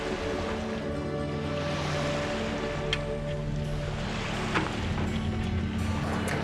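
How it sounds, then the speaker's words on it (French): A sailboat motors at sea with its engine at the lowest revs, a low, steady hum and drone under constant wind and water noise, with faint creaks now and then. "On garde le moteur au plus bas régime pour économiser le fuel"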